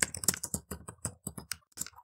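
Rapid bursts of keystrokes on a computer keyboard while code is entered, close and crisp, with short pauses between clusters of clicks and no voices.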